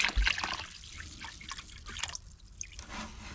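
Vinegar drips and trickles into a container, a few close, soft liquid drops and splashes, faint and alone.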